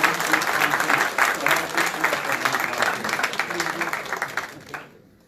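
A conference audience at an event closing breaks into steady, dense applause from many hands that holds for about five seconds, then fades out quickly.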